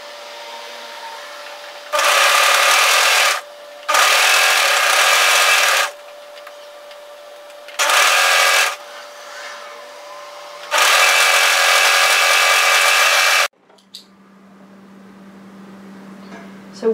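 A sewing machine stitching the side seam of a cardigan, running in several steady whirring bursts of a second or more separated by quiet pauses, close by.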